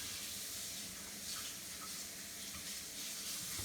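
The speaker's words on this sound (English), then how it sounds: "I'm just rinsing the spatula." Tap water runs steadily into a kitchen sink as a spatula is rinsed under it, a continuous close hiss and splash with no talk.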